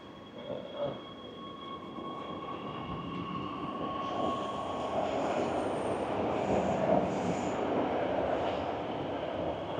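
A Beijing subway car rumbles steadily along the tracks, with a constant low roar, a faint tonal whine and occasional high squeals as the car rides on.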